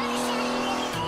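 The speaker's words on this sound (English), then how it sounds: "Driving through the mountains of Colorado in this beautiful classic Ferrari." A classic Ferrari roars through a mountain road in Colorado inside the Forza Horizon racing game, its engine a steady, loud sustained drone with faint tire noise throughout, no pauses.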